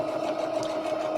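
A sewing machine runs steadily, stitching close along the edge of a cord, giving a continuous fast mechanical whir at moderate, close-up volume with no talking.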